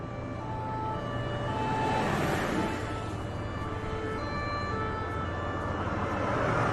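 A loud ambulance siren in Qatar wails continuously over steady road traffic noise, its harmonic tones sweeping slowly up and down close by.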